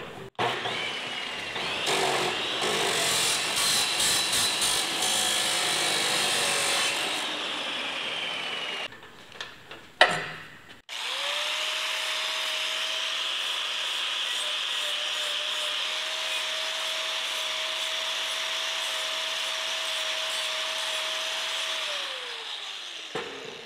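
A high-speed cut-off saw bites into square metal pipe with a harsh grinding screech, pauses briefly with a clunk, then resumes a long steady high whine of cutting that winds down at the end.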